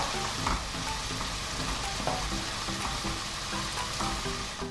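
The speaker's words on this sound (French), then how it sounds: "Je laisse mijoter la sauce au thon sur un feu très très doux" Tuna sauce for capellini simmering in a pan over very low heat, with a steady dense sizzle and faint bubbling, broken by occasional soft scrapes of stirring, alone with no voices.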